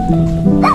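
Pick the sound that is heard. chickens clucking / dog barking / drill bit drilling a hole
dog barking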